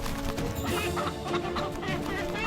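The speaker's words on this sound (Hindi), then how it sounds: "देखा, ये है असील मुर्गा, असील।" An Aseel rooster clucks and calls close by in a short, steady burst of throaty fowl sounds, with no talk over it.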